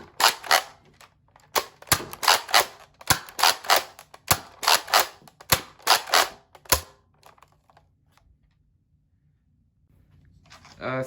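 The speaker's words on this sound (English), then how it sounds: "shooting standard Modulus darts" A compact Nerf Modulus Mediator pump-action blaster fires standard Modulus darts, a rapid series of about ten sharp clacking pump-and-shot snaps close by, followed by quiet.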